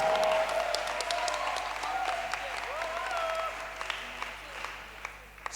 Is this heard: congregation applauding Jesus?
yes